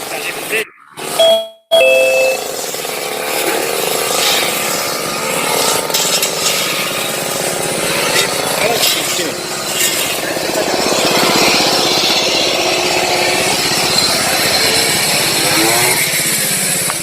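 A grass cutting machine engine runs steadily with a loud, rough drone, with muffled voices and a couple of sharp knocks near the start.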